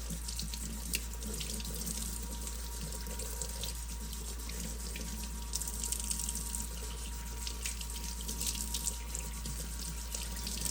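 Cold tap water runs steadily from a kitchen faucet over a boneless, skinless turkey breast being rinsed of salt, a constant close splashing hiss with faint drips and no talking.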